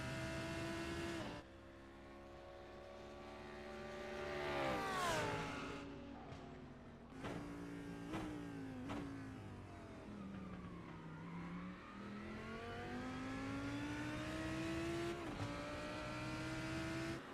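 A Lamborghini Huracan GT3 Evo race car with a 5.2-litre naturally aspirated V10 screams through repeated upshifts and downshifts, its engine note rising and falling loudly with no talk over it.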